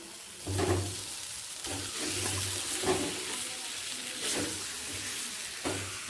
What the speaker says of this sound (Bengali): ডিম আর আলুটার সাথে মশলাটাকে আরও একবার দু মিনিটের জন্য কষিয়ে নেব